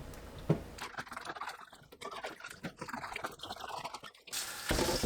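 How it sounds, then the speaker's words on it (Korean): Korean melons are rinsed under a running kitchen tap after a vinegar soak, giving quiet, close trickling and splashing with soft handling clicks and a louder gush of water toward the end, with no talk. "흐르는 물로 한 번 더 헹궈줍니다."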